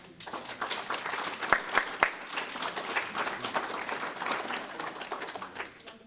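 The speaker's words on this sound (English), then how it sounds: "I'd like to give them all a round of applause" A crowd applauds veterans seated in the front row at a Memorial Day wreath-laying ceremony, steady clapping with a few sharp, close hand claps standing out near the middle before it fades.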